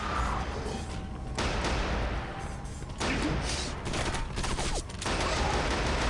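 Bursts of gunfire ring out in the 2005 video game Area 51, dense rattling volleys with thuds, broken by brief pauses and fairly loud throughout.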